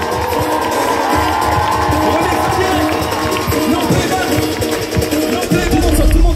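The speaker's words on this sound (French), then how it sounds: "Est-ce qu'on peut faire un maximum d'applaudissements pour le meilleur DJ de New York" A concert crowd at a live hip-hop show in New York City applauds and cheers loudly and continuously, a thick roar of voices and clapping with music underneath.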